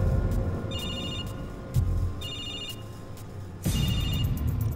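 A mobile phone rings in repeated electronic bursts, three ringing phrases spaced about a second and a half apart over low room noise and background music.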